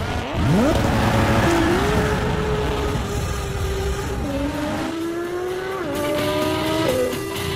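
A drift car squeals its tires while the engine revs and climbs through gears, a loud, sustained screech with rising engine pitch and a brief quieter dip before pulling hard again.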